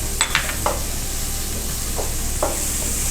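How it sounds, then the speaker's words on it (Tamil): Chilli, cumin and coriander powders with garam masala sautéing in a pan for butter chicken, a soft continuous sizzle with a few spoon scrapes and stirring knocks close by, no talk. "இது எல்லாம் இப்போ போட்டு நல்லா வதக்கிட்டு இருக்கோம்"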